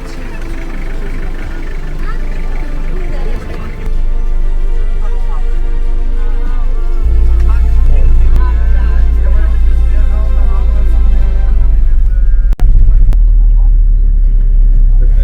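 Interior of a moving bus carrying a tour group on the way to Kilimanjaro, with a loud, steady low engine drone that grows heavier partway through as it pulls away; voices chatter over it.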